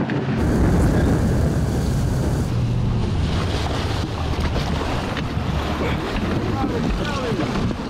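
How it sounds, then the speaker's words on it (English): Military boat with soldiers maneuvering on open water during a rescue exercise, a steady motor rumble under heavy wind buffeting and splashing waves, loud and continuous. "The boat is maneuvering again."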